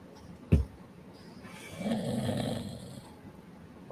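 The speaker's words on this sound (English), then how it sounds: "Did you hear him snoring?" A sleeping person gives a single drawn-out, rumbling snore lasting about a second, preceded by a sharp thump, in an otherwise quiet room.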